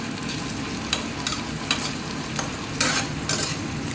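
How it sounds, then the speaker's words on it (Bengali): Food cooking in a pan is stirred, with a continuous low frying sizzle broken by several sharp spoon scrapes against the pan, close and clear, with no talking. "একটু নেড়ে চেড়ে নিই।"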